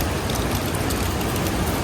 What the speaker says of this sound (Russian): вот еще вода течет